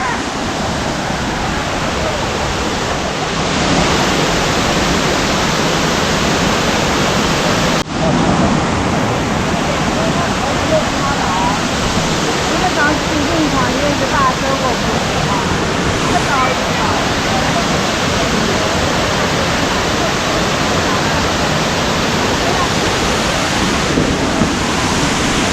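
Kuang Si waterfall rushing in a steady, loud, broadband roar that continues without a break, with a brief knock partway through.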